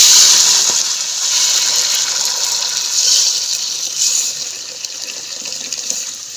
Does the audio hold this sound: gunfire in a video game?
no